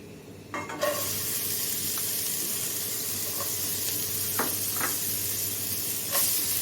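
Vegetables sautéing in a spoonful of ghee in a pan for a soup, giving a steady, continuous sizzle and hiss with a few faint clicks of stirring, no voices.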